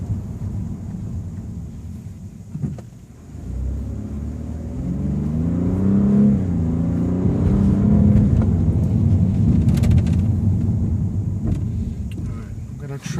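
A 2014 BMW 2 Series in Eco Pro mode pulling uphill, its engine note rising in a steady, muffled drone heard from inside the cabin, swelling and holding under a low rumble of road noise.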